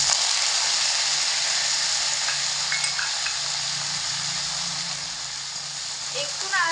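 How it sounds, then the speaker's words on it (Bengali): Chopped raw peanuts and curry leaves fry in hot oil in a pan, giving a steady, close hiss and sizzle that lasts throughout, with a voice talking over it. "এখানে যে কারি পাতা রেখেছিলাম কারি পাতাগুলোকেও দিয়ে একটু ভেজে নিতে হবে"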